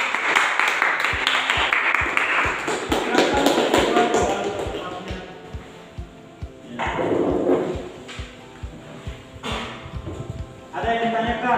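Classroom students clap a rhythmic encouraging applause: fast, steady patterned claps from a group, fairly close, fading in and out, with a few voices in the room.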